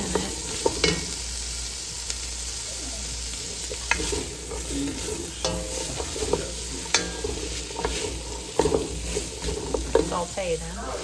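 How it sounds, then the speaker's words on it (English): Asparagus sautés in a pot for a cream soup, an even, steady sizzle with intermittent scrapes and taps from stirring, close and clear, with no one speaking. "I'd like to cook them and saute them a little bit longer before I add all my liquids to them"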